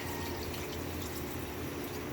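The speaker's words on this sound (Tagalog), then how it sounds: "Lagyan na natin ng tubig." Water poured into a cooking pot while making chicken sotanghon soup, a steady close splashing fill that runs without a break for about two seconds, with no voices.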